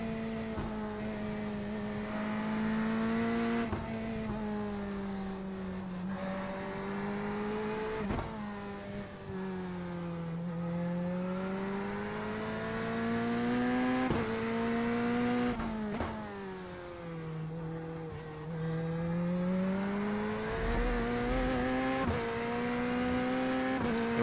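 Race car engine in the iRacing sim on the Portland circuit, revving steadily through a lap with rising and falling pitch as it shifts gears and brakes for corners, loud and continuous with no talk.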